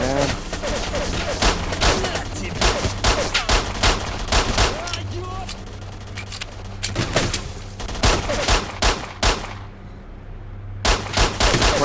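Gunfire in the video game Stalker: Shadow of Chernobyl, loud rapid bursts of shots and automatic fire crackling almost continuously, with only a short lull near the end.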